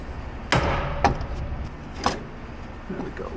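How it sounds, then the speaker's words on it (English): A Subaru Forester or Impreza steering knuckle being forced onto a Godspeed coilover, heard as three sharp metallic clunks and thumps close by over low background hum, followed by faint rattling. "you can force the knuckle into place"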